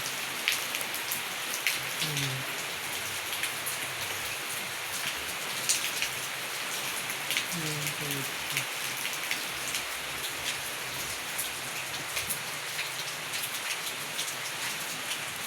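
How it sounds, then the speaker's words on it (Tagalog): Steady rain patters on a treehouse roof among talisay leaves, heard from underneath as a continuous, even hiss with scattered drops and a brief voice. "Umuulan siya."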